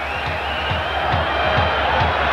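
A stadium crowd at a 1989 World Cup qualifier football match between Israel and Australia roars steadily and loudly, with faint rhythmic pulses of chanting woven through the wash of noise.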